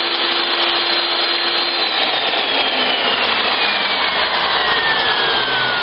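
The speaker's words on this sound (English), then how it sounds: "Bearings sound pretty good on this Porter cable router." A Porter-Cable router used as the spindle on a Gerber AR400 Sprint CNC router runs steadily, giving a loud, continuous high-pitched whine with a faint tone shifting downward, close and alone.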